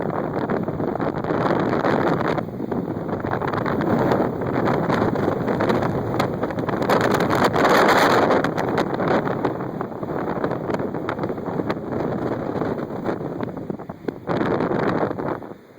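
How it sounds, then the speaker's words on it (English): Strong sustained wind from a hurricane at a beach pier, roaring and buffeting the microphone continuously with louder gusts, no talking. "We've got, I don't know, probably 40-mile-an-hour winds right now."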